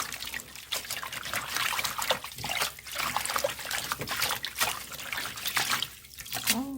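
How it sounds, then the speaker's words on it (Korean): Young wild cucumber-herb (kkotmari) greens are swished repeatedly through a basin of water, giving close, uneven splashing and trickling in rhythmic surges with short pauses. "여러 번 물에 담궈가면서 흔들어가면서 씻어줘야 돼요"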